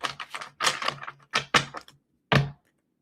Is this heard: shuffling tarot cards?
yes